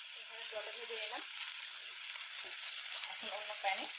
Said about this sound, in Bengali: ভাজা হয়ে গেছে মাছটা